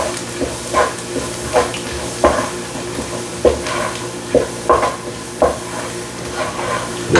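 A wooden spoon stirs and scrapes the bottom of a pot of corn chowder in a home kitchen. It makes a steady soft rustle, broken by a sharp scraping stroke about every second, close and alone.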